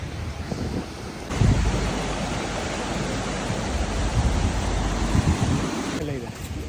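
Ocean waves surge onto a beach in Kerala, a broad roaring wash of surf with wind buffeting the microphone, the rush swelling in and holding steady throughout.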